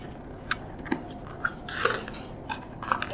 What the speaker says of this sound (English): Monster munch, monster crunch, monster eats a buggy lunch.